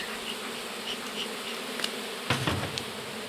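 A steady, dense buzzing of many honeybees at a hive fills the clip, close by, with a couple of brief knocks near the end.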